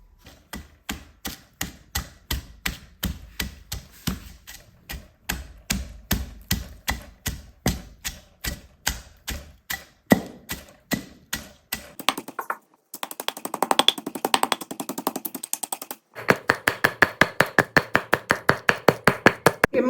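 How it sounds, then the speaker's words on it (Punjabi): Spices being pounded with salt in a mortar, a steady run of sharp, rhythmic pestle strikes, with brief pauses and then faster bursts of pounding. "ਨਮਕ ਨਾਲ ਛੇਤੀ ਕੁੱਟਿਆ ਜਾਂਦਾ ਹੈ"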